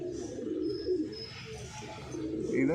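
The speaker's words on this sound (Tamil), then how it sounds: "இது அதே சப்ஜெக்ட் டச் புறா தான்" A Dutch pigeon coos softly in a loft, its low, rolling calls rising and falling against faint background chatter and a distant bird chirping.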